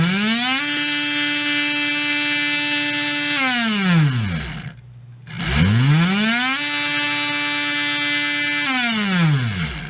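An old Tekin Redline G3 17.5T brushless RC motor, freshly rebuilt, whines loudly up to a high steady pitch during an RPM test, winds down to near silence, then spins back up again.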